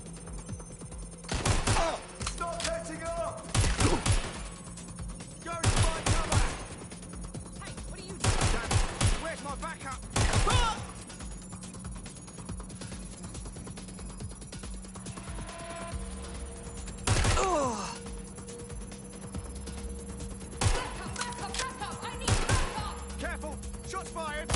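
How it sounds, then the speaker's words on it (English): Gunfire in the video game Watch Dogs Legion on PS5: repeated bursts of sharp shots and rapid automatic fire in clusters, loud and close, over a steady background hum, with voices talking in between. "Shots fired!"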